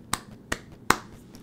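Three sharp, close claps in quick succession, evenly spaced, crisp and loud against near silence.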